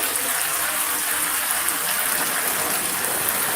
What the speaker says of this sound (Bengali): বৃষ্টি তো প্রচুর তার জন্য দরজায় দাঁড়ায় আছে দুয়ারে